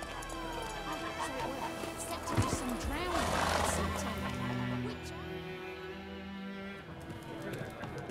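Roach, a horse in The Witcher video game, whinnies loudly in one long, wavering neigh, with game speech and background sound around it.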